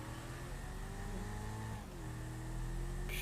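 A car engine in GTA V hums steadily, then pitch shifts as it revs, a loud continuous motor tone with no talking.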